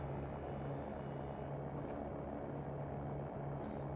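Cirrus SR20 piston engine in the X-Plane 11 flight simulator during a go-around, a steady droning hum with a constant low tone, held at even level from start to finish, with no voices.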